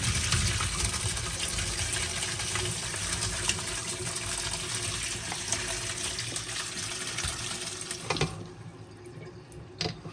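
Water gushes and splashes steadily as overnight-soaked watermelon rinds are poured from a dish pan into a strainer, ending with a few knocks and drips.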